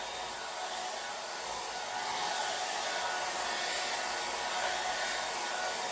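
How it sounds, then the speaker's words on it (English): A handheld blow dryer blows steadily from about 6 to 8 inches away, swept back and forth over Marabu alcohol ink on Yupo paper; a continuous, even whoosh of air with no pauses. "I'm holding the blow dryer about 6 inches, 6 to 8 inches away"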